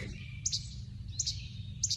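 High, thin bird calls repeat three times at even intervals in a northern Minnesota bog forest of pines, fairly faint and distant over a low steady rumble.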